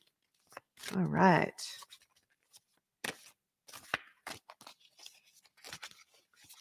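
Cards being shuffled close up, a dense riffling burst followed by scattered dry taps and slides, with a voice speaking briefly during the handling.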